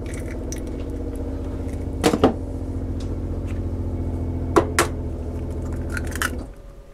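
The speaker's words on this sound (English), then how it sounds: "Crack in a couple of eggs." A couple of eggs cracked into chocolate and Guinness cake batter, heard as a few sharp, brief cracking taps spaced apart over a steady low background hum.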